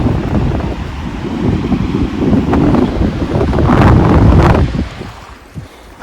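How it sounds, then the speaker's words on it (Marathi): Steady wind roars over the rumble of Arabian Sea waves at Korlai Fort on the Konkan coast, swelling louder for a few seconds before easing off near the end; no voices. "अरबी समुद्र पूर्ण असा लाटांचा आवाज येत असेल आम्हाला लाट्यांचा वाऱ्याचा"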